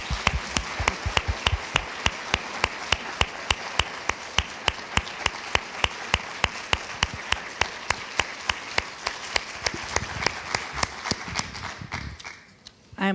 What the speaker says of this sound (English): Let's all give a round of applause for Shirley as she accepts her award.